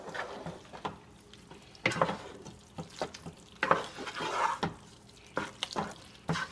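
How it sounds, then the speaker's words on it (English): Wet, squelchy stirring as cheese sauce is folded into al dente noodles for mac and cheese, a series of irregular soft strokes and sloshes, close and fairly quiet. "So we're just gonna mix in the cheese sauce into our al dente noodles."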